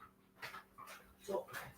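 A pet dog whimpers and yips softly in short bursts while waiting for a treat of fish dog food pieces, with a person talking over it.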